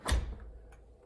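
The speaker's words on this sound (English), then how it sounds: "You'll want to either close the door" A door is pushed shut while a door handle is being replaced, giving one close, soft thud followed by a faint click a little later.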